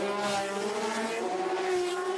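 A BRM race car at speed on the Monaco circuit during a historic race, its engine holding a steady high-pitched wail with rising harmonics, loud and continuous without any voices.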